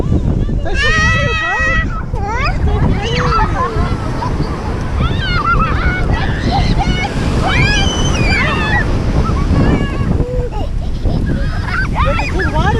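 Ocean waves wash up on a beach on a windy day, a continuous roaring surf with wind buffeting the microphone, while geese honk and people talk excitedly nearby.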